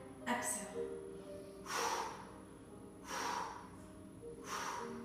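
Slow, deliberate Pilates breaths, four strong airy inhales and exhales spaced about a second and a half apart, close and clear over a quiet room.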